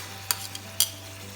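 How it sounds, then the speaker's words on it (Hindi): Tomatoes being added and stirred into mutton cooking in a pan for biryani, heard as two short scraping stir strokes over a steady low hum, fairly quiet with no talking. "अब मैं इसमें टमाटर ऐड कर दूँगी"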